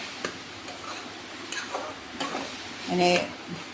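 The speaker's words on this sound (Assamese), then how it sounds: "আদা নহৰু আৰু জলকীয়া পিচাখিনি দি দিলোঁ। আকৌ ভাজিম ধুনীয়াকৈ।" Ginger, garlic and chili paste fries with tomato in a pan, with quick clattering stirs over a soft sizzle and a louder scrape near the end.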